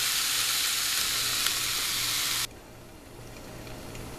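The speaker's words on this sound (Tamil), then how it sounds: "இப்போ இதை வந்து மீடியம் ஃப்ளேமில் வச்சுட்டு மூடி போட்டு நீங்கள் நல்லா குக் பண்ணணும்." Steady loud sizzling of shark puttu frying on medium flame under a lid, a dense hiss that drops abruptly halfway to a softer, quieter bubbling sizzle.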